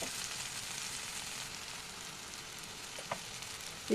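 Okra and tomato sautéing in hot oil with masala, giving a steady, even sizzle throughout with a couple of brief clinks from stirring near the end.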